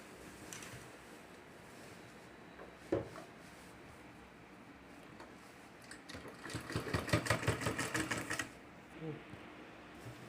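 A sewing machine stitches a cloth shoulder bag in short bursts, with a rapid mechanical rattling run near the middle after a single knock, close and fairly loud.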